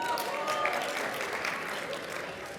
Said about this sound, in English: Special applause.